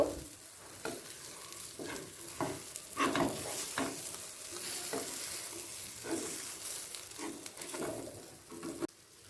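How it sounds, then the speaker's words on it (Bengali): Fried egg rolls are chopped into pieces in a frying pan, with scraping and tapping of a utensil in irregular knocks over a low, quiet sizzle. "এবার ডিমগুলোকে প্যানেতেই একটু পিস পিস করে নেব"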